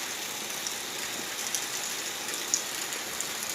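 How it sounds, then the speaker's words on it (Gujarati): Heavy rain pours at night in a steady, dense hiss of countless drops striking surfaces, continuous and fairly close with occasional louder splats and no voices. "રાત્રે હમણાં 8 વાગે ચાલુ થયો ધમધોકાટ વરસાદ"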